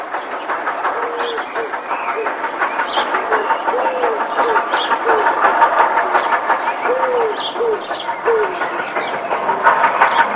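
Steam locomotive 43682 running light engine from Templecombe toward Derby for scrapping, summer 1962, on the Somerset & Dorset line; a steady rumbling run with rhythmic clatter and hiss, birdsong chirping over it throughout.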